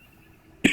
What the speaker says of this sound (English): I still have the cough